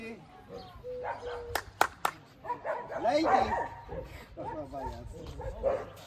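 A dog barks outdoors in a short burst of sharp yaps with a few whimpers, while other dogs stand in a corner nearby, all under a woman's calling and chatter.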